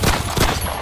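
Gunfire on the Line of Control in Poonch, Jammu and Kashmir, heard as dense, overlapping bursts of shots forming a loud, continuous crackling fusillade with no talk.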